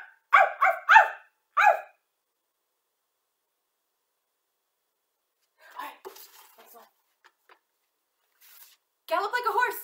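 A voice imitates a dog with a quick burst of barks, followed by a pause, then scattered sounds and more vocal noises.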